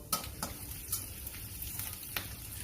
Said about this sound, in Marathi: एक चमच राई टाकते. एक चमच जिरं टाकलेलं आहे.